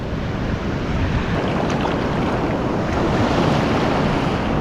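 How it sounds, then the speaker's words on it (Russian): Surf breaking over a coral reef offshore from a soft sandy beach makes a steady, full roar throughout, mixed with wind buffeting the microphone. No one speaks. "Тут коралловый риф, и поэтому там дальше, видите, волны разбиваются."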